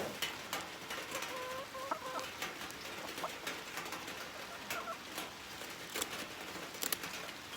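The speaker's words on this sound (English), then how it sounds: "I just caught our rogue chicken here on our porch." A loose hen on a porch in rainy Kentucky clucks repeatedly at close range in short, irregular calls against a faint background hiss.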